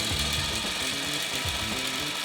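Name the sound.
sewing machine stitching a seam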